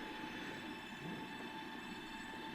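Trains rolling along the track in the video game Transport Fever, giving a steady, continuous rumble with a faint high tonal whine, running alone without speech.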